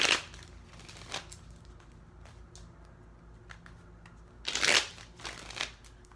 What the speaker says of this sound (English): y'all cards don't want to shuffle for shit